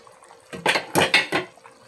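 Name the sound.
opening the cooking pot lid of sinigang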